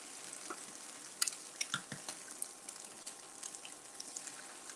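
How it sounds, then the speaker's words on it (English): Whole eggs frying in a pan on a hot cooktop, a soft steady sizzle with scattered faint pops and crackles, fairly quiet and close, with no talking. "those eggs are frying up"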